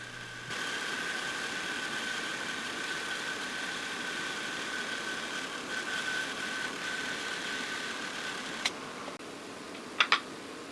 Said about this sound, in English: I started by resawing the board on the bandsaw to create a beautiful book-matched pattern.